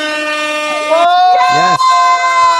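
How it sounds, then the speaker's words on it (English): An air horn sound effect blares loudly in a talk show studio, one long sustained blast followed by a shorter bending toot, with a voice briefly speaking over it. "Oh, they like the air horn."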